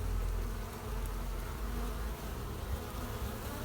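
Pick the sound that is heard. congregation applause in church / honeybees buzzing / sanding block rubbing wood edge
honeybees buzzing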